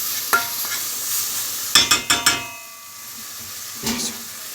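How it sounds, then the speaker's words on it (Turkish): Tomato paste stirred in a pot with a spoon, a soft sizzle underneath and a quick cluster of sharp scraping clicks against the pot, then quieter bubbling and one more stroke. "Şöyle Salçamızı güzelce karıştıralım arkadaşlarım"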